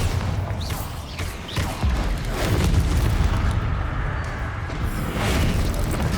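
Bombarda explosion spell cast in Hogwarts Legacy, a dull boom with rumbling debris amid ongoing combat effects and swishes, fairly loud and continuous.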